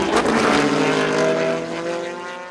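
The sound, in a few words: vintage Porsche race cars at Laguna Seca Rolex Reunion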